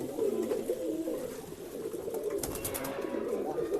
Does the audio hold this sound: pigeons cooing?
yes